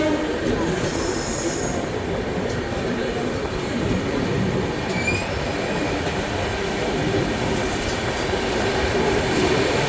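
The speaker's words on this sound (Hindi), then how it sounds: "यहाँ पर सिग्नल हो चुका है, देखते हैं नासिक से डिपार्चर।" A Rajdhani Express train pulling out of Nashik station, with steady rumbling wheels and high metallic squeals running continuously and loudly throughout.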